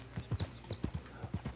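Horse hooves in the video game Red Dead Redemption 2 clip-clop in a quick, even rhythm, faint and steady, with no one talking over them.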